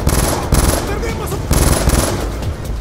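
A Call of Duty Black Ops 2 turret machine gun hammers out loud, rapid bursts in close range, two main volleys separated by a brief pause, with a voice shouting over the fire.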